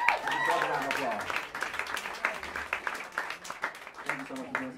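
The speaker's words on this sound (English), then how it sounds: "Give a round of applause." An audience at Smalls Jazz Club claps steadily in a small live room, the applause thinning into scattered claps as a voice speaks over it.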